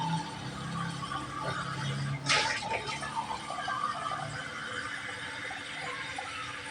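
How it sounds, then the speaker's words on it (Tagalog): Water is poured into a pot of rice, a continuous splashing gush that swells partway through and then settles into a steady, close pour, with no one speaking. "So, next step, lalagay tayo tubig."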